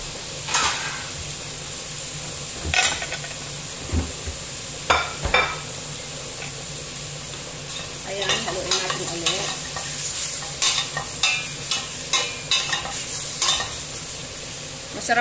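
Vegetables for sotanghon sautéing in a pan, with steady sizzling and frying hiss under repeated scraping and clattering strokes of a utensil as they are stirred, close and loud throughout.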